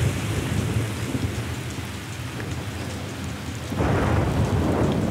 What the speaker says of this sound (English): By nightfall, the islanders are feeling the full force of a tropical storm.